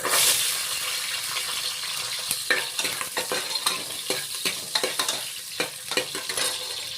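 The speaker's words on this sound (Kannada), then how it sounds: "ಆಯಿಲ್ ಬಿಸಿಯಾಗಿದೆ. ಸ್ವಲ್ಪ ಈರುಳ್ಳಿ ಹಾಕೋಣ." Small sambar onions hiss and sizzle steadily in hot oil, with repeated scraping and stirring clicks from a utensil in the pan, close by.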